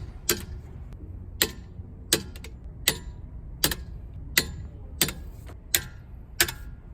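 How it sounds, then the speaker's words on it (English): A torque wrench set to 130 newton-meters clicking as Porsche 911, Cayman or Boxster wheel lock bolts are tightened, about nine sharp, evenly spaced clicks over a faint hum. "tighten every single wheel lock bolt until you hear a nice click like this"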